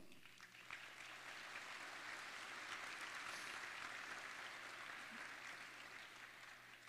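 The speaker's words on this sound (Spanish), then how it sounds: "Démosles un aplauso." A church congregation applauds with steady, dense clapping from a large crowd, sustained for several seconds in a roomy indoor space.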